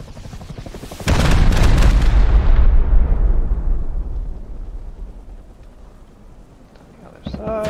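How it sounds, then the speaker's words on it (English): A rocket blast in Rust hits as one loud, heavy boom. It rolls off into a long fading rumble, and a brief sound follows near the end. "Rocket, I think."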